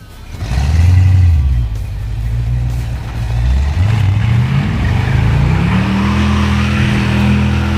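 A supercharged Jaguar rat rod does a burnout in a parking lot, its blown engine revving loud and close with rising, sustained pitch across the whole stretch and no talk.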